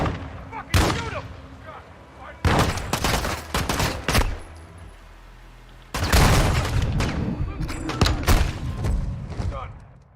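Bursts of gunfire in the Modern Warfare 2 campaign: two loud volleys of rapid shots split by short pauses, with a heavy boom, and a voice shouting over the shooting.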